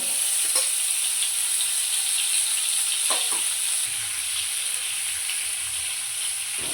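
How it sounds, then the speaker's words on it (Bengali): Pumpkin and potato pieces frying in a wok with black cumin, a steady bright sizzle close by, with a few soft scrapes of stirring and no talk. "কড়াইতে কালো জিরে ফোড়ন দিয়ে এবার কুমড়ো আলুগুলোকে ভেজে নেব।"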